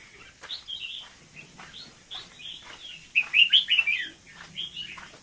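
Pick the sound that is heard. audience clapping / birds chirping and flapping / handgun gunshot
birds chirping and flapping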